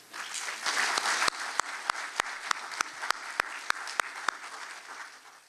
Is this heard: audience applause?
yes